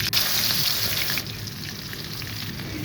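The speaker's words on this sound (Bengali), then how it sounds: "এখানে প্রথমে মাছ আমি ভালো করে ভেজে নিচ্ছি" Fish, a Bangla variety, sizzling and crackling in hot oil in a frying pan, a steady close spatter that grows louder and brighter in the first second, then settles into a softer, even hiss.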